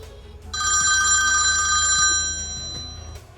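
A telephone rings with one electronic trill burst of about a second and a half, loud and close over a low background hum, with no voices.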